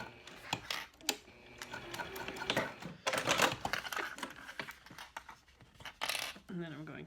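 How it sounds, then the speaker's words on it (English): Close, quick bursts of a sewing machine stitching down the side of a key fob wallet's card slots, the mechanical whirring starting and stopping in several runs, with a person speaking briefly at the end. "And then you just sew down just the right side."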